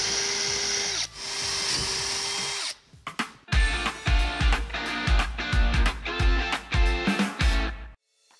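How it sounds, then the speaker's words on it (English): A power drill whines steadily, then bores a series of marked holes around a bathtub during installation in short, loud revving bursts with brief pauses, close by. "just work your way around the tub, drilling each one of those locations you just marked"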